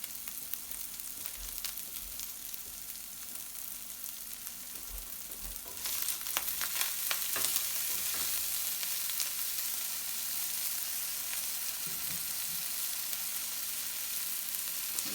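Corn cake batter frying and sizzling in a pan, a steady soft crackle that grows louder and denser partway through, with occasional scraping stirs and clicks and no talking.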